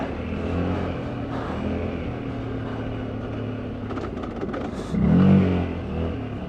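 A Loncin XWolf ATV crawls over rough off-road terrain, its engine droning steadily nearby, then briefly swelling louder as it revs.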